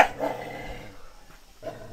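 A mother dog with her five puppies, giving a short low growl and whimpering sounds, close and moderately loud, with a brief rise in noise near the end.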